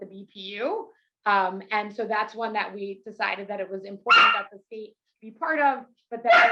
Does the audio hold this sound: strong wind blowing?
no